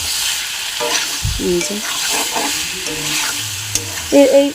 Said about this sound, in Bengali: সেটা কষাতে কষাতে সয়াবিনকেও দিয়ে দেবো।